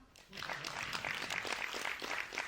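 Comedy club audience applauding in answer to a stand-up comedian, a soft spatter of clapping that swells after a brief pause and keeps going, fairly distant and low in level, with light speech mixed in.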